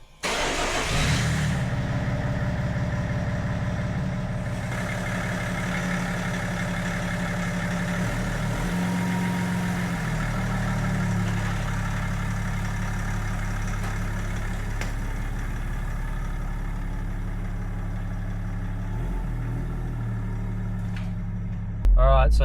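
A BMW engine swapped into a Toyota idles steadily after firing up, a close, even mid-pitched hum that holds throughout with a brief rise at the very end, and a person speaks over it.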